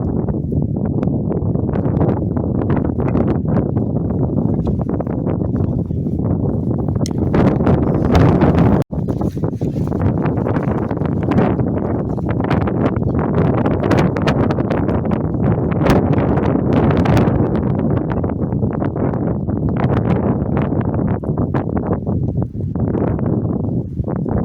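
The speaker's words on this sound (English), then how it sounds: "by gum, it's incredibly windy" Strong wind buffets a microphone on a Peak District hilltop, a loud, continuous roaring rush with gusty surges and one brief dropout, no voices.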